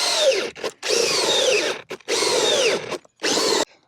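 An old, overheating power drill bores through a roughly 4-inch-thick MDF-like roof board in four loud, close bursts of grinding, whining cutting separated by short pauses, with no talk.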